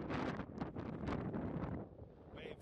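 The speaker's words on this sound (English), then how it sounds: "Very windy." Strong wind buffeting a microphone at an airfield, rough gusty roar rising and falling in waves and easing toward the end, heard alone and fairly faint.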